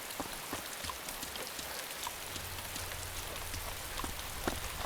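Steady rain falls in the survival game DayZ, a soft, even hiss of drops on surfaces that stays fairly faint and unbroken throughout, with no voices.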